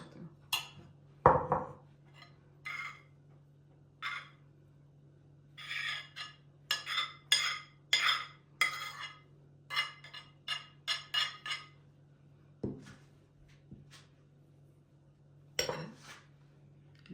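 A spoon stirs grated salad ingredients with a clove of garlic in a bowl. Intermittent scraping strokes and light clinks of metal on the dish come in uneven bursts, with a low steady hum underneath and pauses between.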